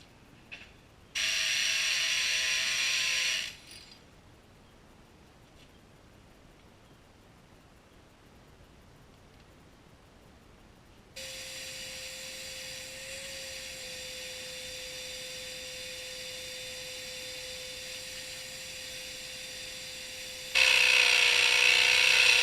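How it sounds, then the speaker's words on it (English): Power drill boring holes for a pool handrail: short, high whining bursts of the drill, separated by quiet pauses, then a long, steady, near run of the motor, with a louder burst at the end. "then we're going to start drilling"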